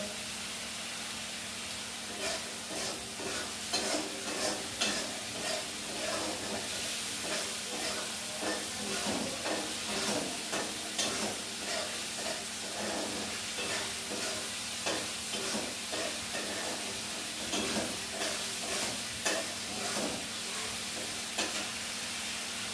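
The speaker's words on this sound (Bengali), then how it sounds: "ভালো করে মশলাটা কষিয়ে নিতে হবে" Spice paste stir-fried in a pan for a fish roe fritter curry, with potatoes: a steady sizzling hiss broken by frequent scraping and stirring strokes, close and fairly quiet, heard alone without talk.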